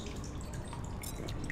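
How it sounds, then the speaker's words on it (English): Water dripping in a cold, wet cave in The Solus Project, faint scattered drops plinking over a low, steady ambient rumble. "I hear water."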